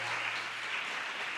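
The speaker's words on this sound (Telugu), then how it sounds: "చప్పట్లు కొట్టాలి." A church congregation claps together in a continuous, fairly soft patter of applause, with a low steady hum beneath.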